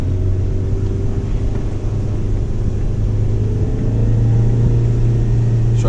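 A truck engine, driven with a manual clutch, runs at a steady loud rumble with a constant drone and a slight rise in pitch partway through as it is given gas.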